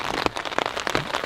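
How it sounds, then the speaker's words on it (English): Steady, moderate rain patters on a tent or campsite at night, with dense, even droplet hits and no wind or thunder, close and continuous. "It's been raining all night long since roughly 11 p.m. It's a good solid rain."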